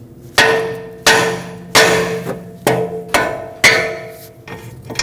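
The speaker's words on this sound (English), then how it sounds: "with a hammer, we're going to hammer the side of the knuckle right here, which will break free the tie rod stud from the knuckle" A hammer strikes the side of the steering knuckle on a 2009-2015 Honda Pilot to free the tie rod stud. Five loud metallic blows land at a steady, roughly one-second rhythm, each ringing briefly before the next.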